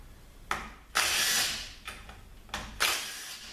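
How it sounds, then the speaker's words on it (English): Torx T40 bolts being removed from the valve body of a ZF 6HP26 transmission, giving several short tool bursts and ratcheting clicks in two clusters, close and fairly loud, with no talking. "we're going to take out the T40 bolts, and we'll remove the valve body from the case"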